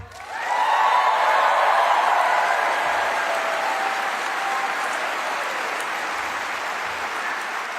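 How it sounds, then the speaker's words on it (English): Rally crowd in Kalamazoo, Michigan applauding its union leaders, a big, sustained roar of clapping that rises quickly, holds loud and tapers gradually without letting up. "can we just give one more huge round of applause for our union leaders"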